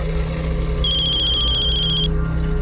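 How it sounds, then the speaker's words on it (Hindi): A telephone rings once in a single bright electronic trill lasting over a second, heard over a steady low background hum in a room. "लो, आ गया फोन।"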